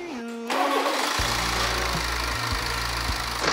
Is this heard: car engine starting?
yes